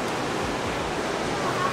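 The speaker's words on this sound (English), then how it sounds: "I didn't order the rain." Rain falls over Bondi Beach in Sydney as a steady, close, hissing wash mixed with surf, holding an even level for the whole stretch without a break.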